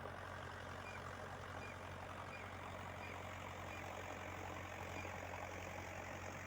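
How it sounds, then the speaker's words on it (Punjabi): A steady, low tractor engine drone runs without a break under load while levelling a field, rumbling evenly and fairly distant, with no voices over it. "ਲੋਡ ਲੈ ਰਿਹਾ ਹੈ ਟਰੈਕਟਰ"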